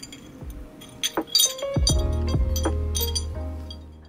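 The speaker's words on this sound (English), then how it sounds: "I like how these glass pens sound." Japanese glass dip pens clink against each other and a hard surface, giving a few bright, close, delicate taps and chimes over a quiet room with no talk.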